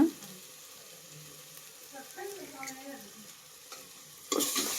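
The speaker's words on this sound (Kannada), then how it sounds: "ಇದನ್ನು ಚೆನ್ನಾಗಿ ಹಸಿ ವಾಸನೆ ಹೋಗೋವರೆಗೂ ಚೆನ್ನಾಗಿ ಫ್ರೈ ಮಾಡ್ಕೊಬೇಕು." Spices frying in a pan for mutton sambar give a quiet, steady sizzle, with soft scraping from stirring and a louder clatter near the end.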